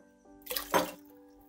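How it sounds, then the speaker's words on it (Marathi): Water poured briefly into a pot of fenugreek seed dal, a short soft splash that rises and fades within about half a second against a quiet kitchen. "अजून थोडं पाणी टाकते मी"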